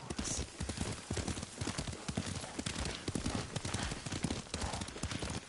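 Hooves clip-clop in a quick, steady rhythm as a horse is ridden in the video game Ghost of Tsushima, close and fairly loud against a busy ambient background.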